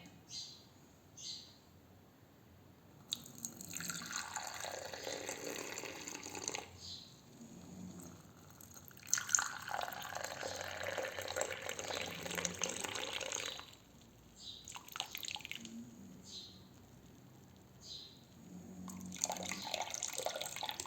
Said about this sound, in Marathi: चला तर मग आता आपला चहा तयार आहे तो आता आपण गाळून घेऊयात